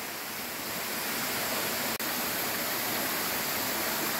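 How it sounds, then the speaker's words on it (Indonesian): A constant, full roar of the Kedung Kepyur waterfall, steady and enveloping throughout with no voices. "Inilah view dari situs air terjun Kedung Kepyur."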